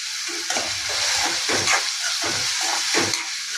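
Onion and curry leaves sizzling in hot oil in a pan for soybean bhurji, a loud continuous hiss with rhythmic stirring scrapes pulsing through it.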